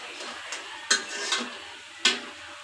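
Singara frying in oil, with a soft sizzling bed broken by a few sharp metallic clinks and scrapes of a utensil against the pan, spaced irregularly and close up.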